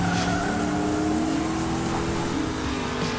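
Cartoon race car engines roar loudly with squealing, skidding tires, a continuous dense rush of revving motors and rising pitch sweeps at a race start in Hot Wheels City.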